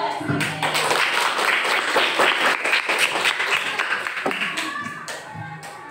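A class of fifth-grade pupils claps for a group after a water-cycle lesson, the applause loud and close with distinct individual claps and a few voices mixed in, thinning toward the end.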